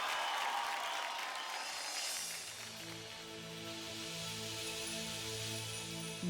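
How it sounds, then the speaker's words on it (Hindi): Studio audience applause on a televised singing competition, loud and dense at first, then thinning out over a couple of seconds as sustained musical tones take over. "चलिए जोरदार तालियां."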